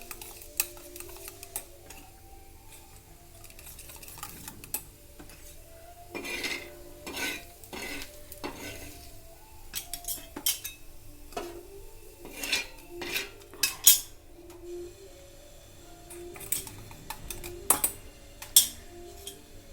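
Eggs with salt are beaten in a bowl for an omelette, giving quick rhythmic clinks and taps of utensil against dish, close up and fairly quiet, with a few sharper knocks toward the end.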